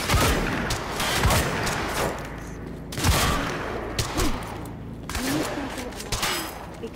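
Gunfire in the Quantum Break game comes as repeated sharp shots and bursts over a steady background of combat noise. Shouting soldiers and radio voices are heard at times through the firing.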